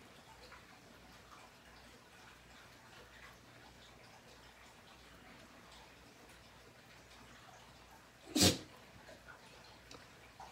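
A single sharp sneeze bursts out once near the end, loud against a quiet room with faint background hiss, during a watercolour color-wheel painting session.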